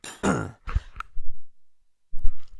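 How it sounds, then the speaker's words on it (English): A single rough cough and throat clearing close by, followed by a short silence and then a brief throaty grunt. "Why I get a cough as soon as I start talking is beyond me"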